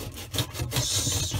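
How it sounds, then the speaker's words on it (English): Sandpaper scuffing a dishwasher surface during a water-leak repair, a steady gritty rubbing that runs continuously at moderate, close level with short strokes blending together. "the first thing I'm going to do is I'm going to take the sandpaper"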